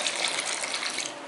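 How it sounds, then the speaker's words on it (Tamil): Water poured into a bowl of semolina and thick curd batter, a steady close splashing gush running without a break for the whole moment, nobody speaking. "அது கூடயே ஒரு கப்பு தண்ணி சேர்த்துக்கோங்க."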